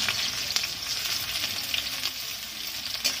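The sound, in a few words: onion frying in hot oil with dried red chili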